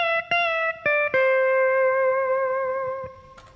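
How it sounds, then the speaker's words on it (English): A jazz improvisation lick played on a C6 pedal steel guitar, a few picked notes followed by long sustained, gliding tones with effects and echo, clear and alone. "this improvisation lick sounds like this now from the top"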